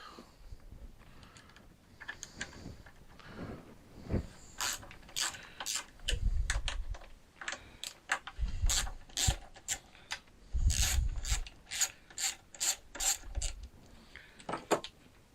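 A ratchet wrench works two 10mm bolts off the air filter of a Stihl TS350 disc saw, rapid clicking bursts repeating up close with the metallic clatter of the tool and bolts.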